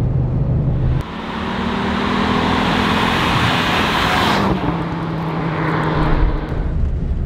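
Original Audi Quattro Coupe driven briskly, a loud in-cabin engine and road roar that shifts pitch as the car accelerates and changes gear, continuous with no talking.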